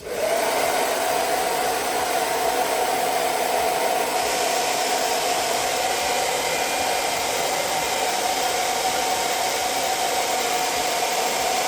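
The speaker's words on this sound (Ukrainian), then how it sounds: "поганяємо сам фен, подивимося, як буде працювати" A hair dryer runs steadily at a low setting, a constant close whoosh of airflow with a faint motor whine, no pauses throughout.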